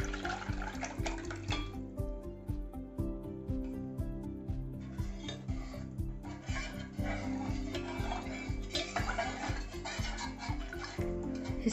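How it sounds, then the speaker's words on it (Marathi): Chicken stock poured into a pan of briefly sautéed garlic for a Kolhapuri tambda-pandhra rassa, cooked over a low flame, with continuous liquid splashing and stirring close by. No one speaks. "त्यात हा चिकनचा स्टॉक टाकायचा आहे."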